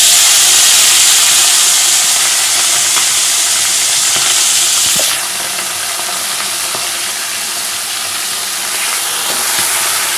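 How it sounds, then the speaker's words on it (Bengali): Prawns frying in hot oil with whole cumin, whole garam masala and bay leaf, a loud, close, continuous sizzle that eases slightly midway as they are stirred, with no talking. "এবার চিংড়ি মাছগুলো দিয়ে দেব"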